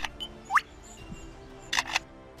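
A lyrebird mimics a camera shutter with a few faint, sharp clicks and whirring chirps, one isolated and a quick double burst near the end, against a quiet background.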